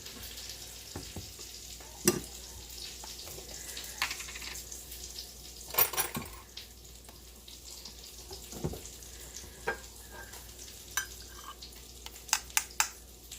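Salmon cakes fry quietly in a pan with a steady soft sizzle, broken by occasional clinks and scrapes of a utensil.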